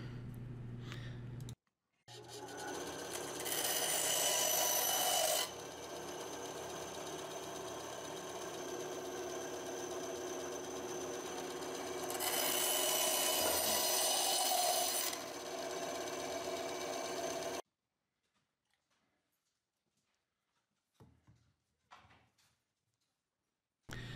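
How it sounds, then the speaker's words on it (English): Bandsaw cutting small wood pieces for a miter spline and dovetail key jig: a steady motor hum with two louder stretches of blade biting through wood, then the saw shuts off and a few faint knocks follow. "so that I can cut them into pieces on my bandsaw"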